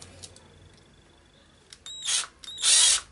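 A power drill whirs in two short bursts, the second longer, close by, with quiet clicks and a faint whine before it.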